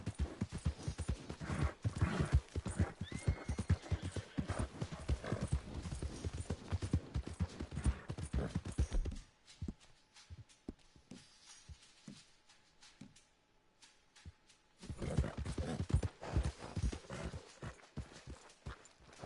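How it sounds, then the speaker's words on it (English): Hoofbeats of a horse running in the video game Red Dead Redemption 2 pound out rapid, even clip-clops, loud and close. They thin to a sparse patter over a quiet stretch with a faint tone, then return at full pace. "Bom que o cavalo agora corre,"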